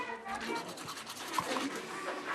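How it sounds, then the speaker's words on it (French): A toothbrush scrubs rapidly against teeth in short, close, soft scratchy strokes, a quiet rhythmic brushing lasting a couple of seconds. "on se brosse les dents"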